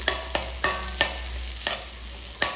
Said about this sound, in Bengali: পেঁয়াজ দিয়ে একটু নাড়াচাড়া করছি, একটু লাল লাল হবে